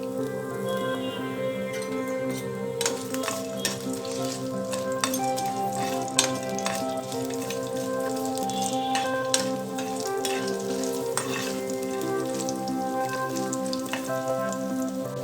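Garlic and dried red chillies sputter and crackle in hot oil in a pan on the stove, a steady, fairly loud sizzle with scattered sharp pops throughout and no talking.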